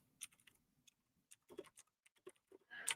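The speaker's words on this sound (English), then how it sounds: "a very clicky keyboard" A very clicky computer keyboard is tapped in scattered bursts of sharp, close clicks with uneven pauses between them.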